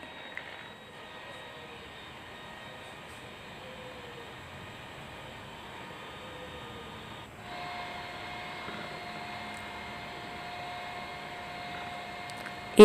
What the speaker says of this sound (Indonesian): Lanjutkan dengan mixer sampai adonan ini mengembang atau kaku berjejak atau soft peak.